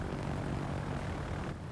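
Fighter plane engine in World of Warships, a dense continuous propeller drone with a broad rumble, steady and fairly loud throughout.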